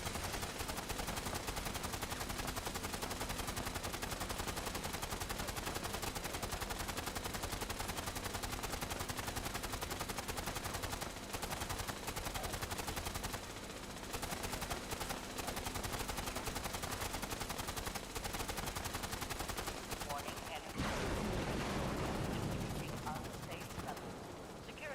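Dense, continuous gunfire from the online game Fallout 76, rapid automatic bursts blending into a loud unbroken barrage for most of the stretch, with players talking intermittently underneath.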